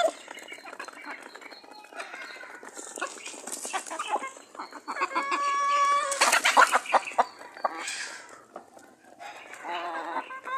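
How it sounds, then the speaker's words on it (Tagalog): Native chickens raised in a Philippine backyard cluck and crow repeatedly at close range, a busy, overlapping chorus of fowl calls that swells in the middle and carries on with faint background voices. "marami siyang alagang manok"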